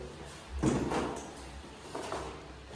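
A door in a newly moved-into home is tried and opened, giving a loud knock-like clatter near the start and a softer second bump about a second later, close by indoors.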